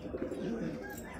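Pigeons at a bird market near the Red Fort and Jama Masjid in Delhi give a brief, steady low cooing burble, close and continuous.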